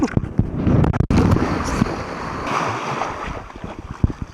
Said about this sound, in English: And the wind's pretty steady